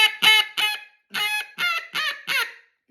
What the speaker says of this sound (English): if you try to blow it the typical way that we blow a duck call, it ain't gonna do right